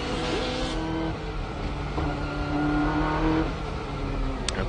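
Onboard the number 22 Nissan Skyline GT-R race car at the 1995 24 Hours of Le Mans, a loud, sustained engine drone shifts pitch through gear changes, with steady road and wind roar throughout.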